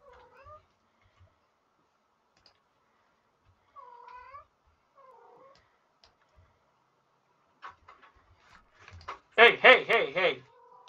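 A cat in the RimWorld video game meows several times in short separate calls across quiet stretches, then lets out a louder burst of rapid yowls near the end.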